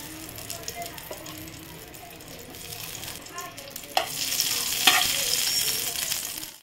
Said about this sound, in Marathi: आता पॅन मध्ये आपण 2 चमचे तूप घालून घेऊ।